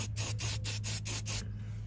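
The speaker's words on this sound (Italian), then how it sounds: "a questo punto metto un po' di disinfettante sempre spray disinfettante e astringente" Disinfectant astringent spray is applied to a horse's hoof while its rotting frog is treated. About six short, rhythmic hissing bursts sound close up, then they stop.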